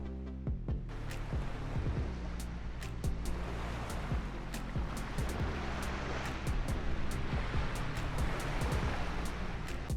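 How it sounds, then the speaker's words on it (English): Ocean waves rendered in a flight simulator game, a continuous surf wash with a low rumble and repeated sharp clicking transients over it, moderately faint. "you can even hear sound of the waves as well"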